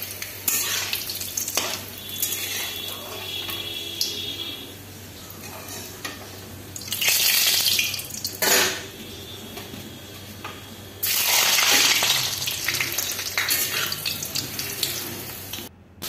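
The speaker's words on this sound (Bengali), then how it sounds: "এখন আবার বসিয়েছি কারকুল ভাজা" Karkul, a sweet snack, frying in hot oil in a home kitchen, a steady sizzle with stirring and brief bursts of running tap water, close and continuous with no talk.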